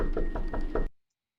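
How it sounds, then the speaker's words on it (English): Four quick knocks rap on a back door in a steady rhythm, close and distinct, then cut off into silence. "hearing knocks from the backyard door"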